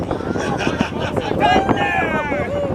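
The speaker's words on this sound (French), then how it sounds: "Hey, le vent, il est là." Outdoor wind buffets the microphone at a convoy gathering in Boucherville, a continuous rumbling roar that swells slightly midway, heard under and around voices.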